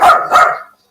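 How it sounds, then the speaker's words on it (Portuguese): A dog indoors gives two loud, close barks in quick succession, then goes silent. "O cachorro está se manifestando contra essa foto da Folha também"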